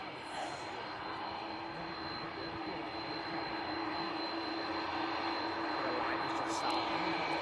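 Brussels Airlines jet airliner departing Manchester Airport, its engines giving a continuous broad roar with a steady high whine that builds slightly toward the end, heard from the ground at moderate distance.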